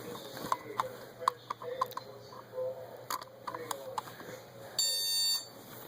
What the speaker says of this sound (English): beeping noise